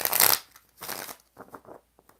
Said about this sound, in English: It didn't want to shuffle that time.